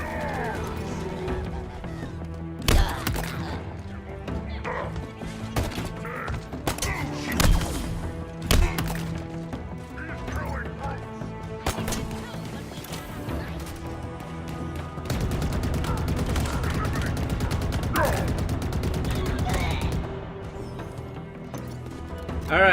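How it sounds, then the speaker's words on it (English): In the Halo Infinite campaign, a hijacked Covenant shade turret fires repeated heavy thumping shots. The bursts come in uneven clusters over steady game noise, with a denser stretch of fire toward the end. "you actually can hijack shade turrets in this game now."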